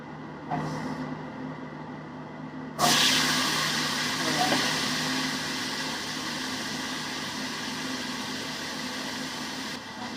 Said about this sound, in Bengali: এক্সস্টটা চালিয়ে দিই